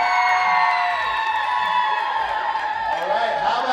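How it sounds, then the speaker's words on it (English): At a Chippendales opening night in Las Vegas, an audience lets out loud, sustained cheers, whoops and high shouts, a dense crowd roar holding steady throughout. "Let's hear it for Team Ryan."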